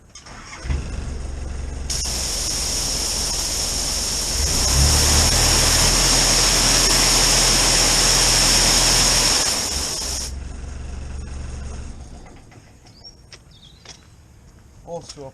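A pressure washer sprays water through a ball jet nozzle on a 1/2 inch hose at less than full throttle, a loud steady hiss that starts abruptly, swells in the middle and cuts off, with engine rumble beneath.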